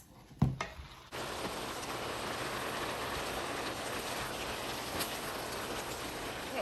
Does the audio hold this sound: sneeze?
no